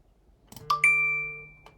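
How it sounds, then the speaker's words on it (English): Apple Pay wallet sound effect triggered on an iPhone 15 Pro simulator: a short, bright two-note chime that rings out and fades cleanly, alone. "It is the sound of Apple Pay wallet, which I downloaded online."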